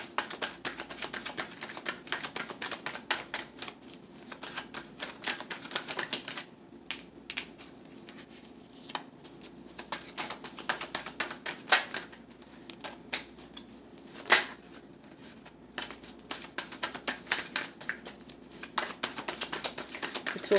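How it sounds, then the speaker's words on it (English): Tarot cards are shuffled and drawn from a deck close up, with a long run of quick, crisp riffling flutters, brief pauses and occasional sharper card snaps, and no voices. "let's get 4 cards out for person B"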